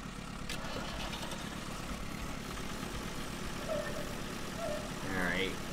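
An IH tractor engine idles in Farming Simulator 2013, a steady low rumbling drone that holds even throughout, with a few brief higher tones rising near the end.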